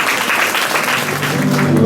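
A church congregation at a baptism service applauds, a dense burst of steady clapping from many hands, loud and close, with no talk over it.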